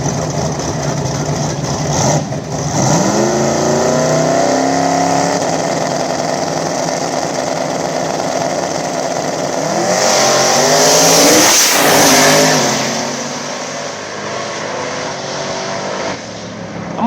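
Two twin-turbo LS-powered outlaw small-tire drag cars launch down an old-school street strip, engines roaring loud and rising through gears with sharp rev changes, then swelling again as they pass and fading into the distance.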